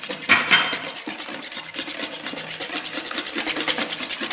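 Lemon poppy seed cake batter with added oil being mixed by hand in a bowl, heard as quick, rhythmic scraping and rubbing strokes up close, with no talking.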